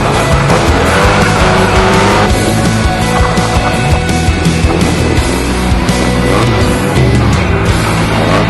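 Loud, close engines of vintage cars revving and rumbling continuously at a winter driving test at Brooklands, with tire noise and a busy outdoor din around them.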